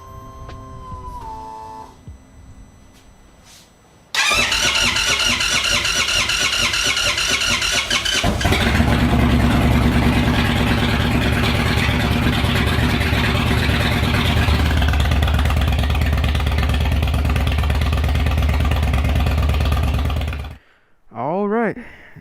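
An Indian Chief motorcycle engine cranks and fires, then settles into a loud, steady idle close by for about sixteen seconds before cutting out; there is brief talk near the start and again at the end.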